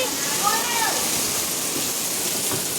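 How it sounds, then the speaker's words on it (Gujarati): Continuous hiss of heavy rain falling nearby, dense and even, with a faint voice briefly audible underneath. "એટલો બધો વરસાદ પડ્યો ને કે ન પૂછો વાત."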